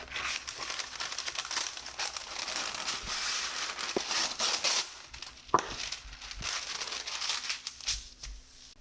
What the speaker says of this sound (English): I'm going to just tape it down with some regular tape and hope that sticks